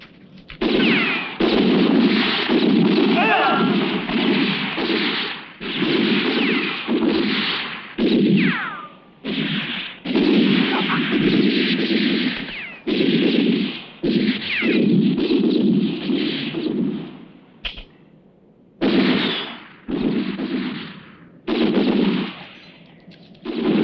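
Gunfire in a 1969 western film: loud, rapid bursts of shots come in long volleys separated by brief pauses, dense and close, with no talk over them.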